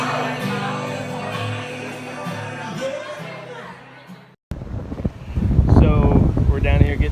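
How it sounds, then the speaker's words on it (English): Strong gusting wind buffets the microphone outdoors along a riverfront downtown as a storm approaches, loud and steady, with a brief cut partway before rougher, heavier gusts return. "the wind is blowing like crazy, so, and there's a storm coming in"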